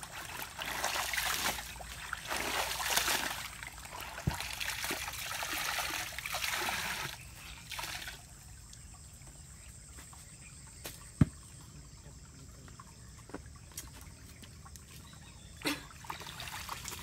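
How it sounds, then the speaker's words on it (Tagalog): River water trickling and splashing steadily during laundry washing, louder at first and then settling into a quieter flow with a few sharp clicks. "Yan ang tubig."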